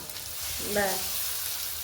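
Tomato fries with onion in a pan, a soft, steady sizzle with a brief faint voice-like tone in the middle.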